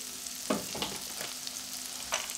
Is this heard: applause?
no